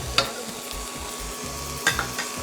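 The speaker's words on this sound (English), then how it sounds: "Stir it all up." Glutinous rice being stirred in a hot pan, with soft scraping strokes over a low sizzle and a couple of sharper utensil scrapes, close and alone without speech.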